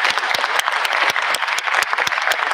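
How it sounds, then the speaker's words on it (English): Applause from an audience at a high school spring concert, a dense, steady patter of many hands clapping with a few sharper individual claps standing out, fairly close and loud throughout. "I think that deserves another round of applause"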